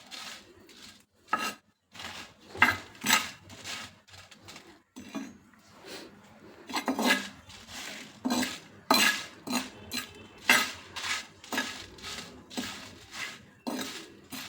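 Chicken for chicken oil kara is stirred and roasted in a pan; a metal spatula scrapes and knocks against the pan in repeated rhythmic strokes, close and fairly loud, with short pauses between bursts.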